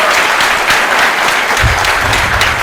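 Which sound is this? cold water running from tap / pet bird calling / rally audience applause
rally audience applause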